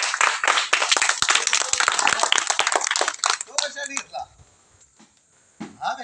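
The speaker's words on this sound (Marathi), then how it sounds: "टाळ्या वाजवा." A crowd of school students applauds at a school event, a dense burst of clapping for about three and a half seconds that then thins to a few scattered claps, with brief talk near the end.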